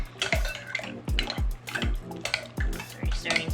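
Quick rhythmic clinks of a spoon stirring milk with apple cider vinegar in a pot for goat cheese, about eight sharp knocks at an even pace with soft liquid swishing between.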